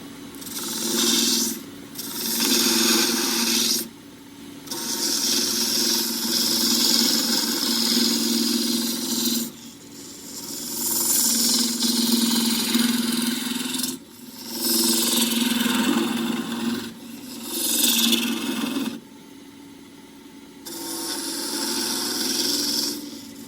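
A lathe turns very hard Tasmanian horizontal scrub against a straight spindle gouge, giving close, steady rasping cuts in repeated passes separated by short pauses, over a constant motor hum.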